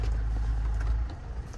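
A Land Rover Evoque SD4 diesel 4x4 with automatic gearbox, model year 2013.5, idles with a low rumble that cuts out about a second in as the engine is switched off, leaving quiet.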